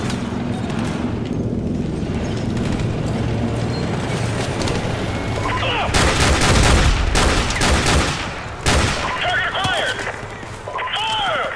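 Gunfire in Call of Duty: Modern Warfare Remastered: dense, loud battle noise with rapid shot bursts and booms that swell in the middle and return later in short volleys.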